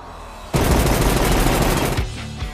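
Gunfire of the kind used in the John Wick films erupts in a loud, sustained rapid-fire volley lasting about a second and a half, then cuts off sharply.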